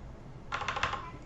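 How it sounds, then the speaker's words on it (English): A burst of computer keyboard typing, quick irregular keystrokes lasting under half a second, close and clear against a quiet room background. "I could click there and I could just start typing again."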